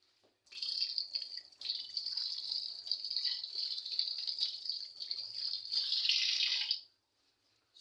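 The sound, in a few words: washing hands under running tap water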